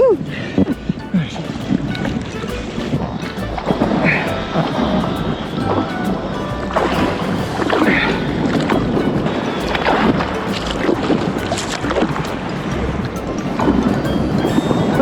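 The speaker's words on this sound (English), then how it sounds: "We'll have to paddle." A small boat being paddled at the seaside, with water splashing and sloshing against the hull amid gusty wind buffeting the microphone, loud and close, while a voice is partly audible.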